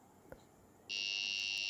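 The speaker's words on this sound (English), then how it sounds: "The flat sound of the buzzer is already audible" A sharp tick, then a loud, flat, high-pitched thermal alarm buzzer switches on and holds steady without a break.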